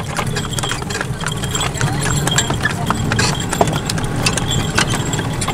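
Hooves clip-clop in a quick, uneven patter as a horse goes through its first training session and balks, close by, over a low idling engine hum.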